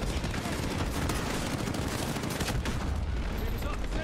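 Rapid gunfire from the Call of Duty: Modern Warfare (2019) campaign, a dense, steady barrage of shots and blasts running loud and continuous with no pauses.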